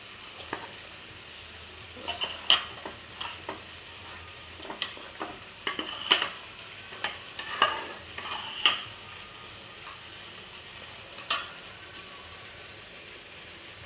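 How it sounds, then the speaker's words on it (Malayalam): Spinach and dal with masala and salt being stirred in a frying pan, a soft continuous sizzle broken by scattered scraping clicks of the spoon against the pan, close and fairly quiet. "പാലക്കും എല്ലാം കൂടി ഉള്ളത് നമ്മളിതിലേക്കിട്ട് നല്ലവണ്ണം ഇളക്കി എടുക്കുക."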